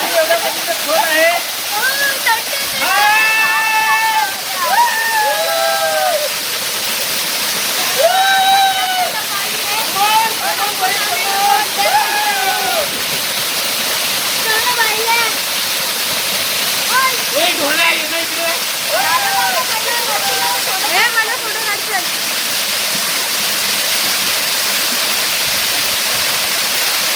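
A scenic waterfall roars as a constant loud rushing wash of water, with a voice talking or singing over it at intervals.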